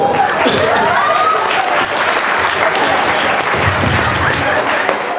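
Loud, sustained applause from an audience at an Easter program catwalk contest, dense hand clapping with occasional cheers running continuously from start to finish.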